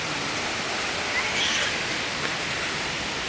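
Khlong Lan waterfall in Kamphaeng Phet rushes as a constant, dense roar of falling water, steady and enveloping throughout.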